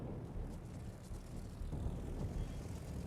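Attack aircraft droning overhead in the naval game World of Warships, a steady low engine rumble that stays constant and fairly faint, with no speech.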